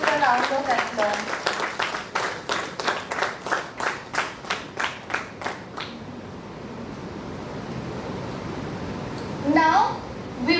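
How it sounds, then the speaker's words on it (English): An audience applauds dignitaries at a live-streamed event: a burst of rhythmic clapping that fades out after about six seconds, followed by quiet room noise and a brief voice near the end. "Please greet all of these dignitaries with a round of applause."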